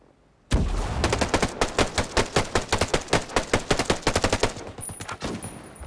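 Rapid automatic gunfire in the tactical shooter Ghost Recon Breakpoint during a PvP match, a loud sustained burst of sharp, evenly spaced shots lasting several seconds, with no talking over it.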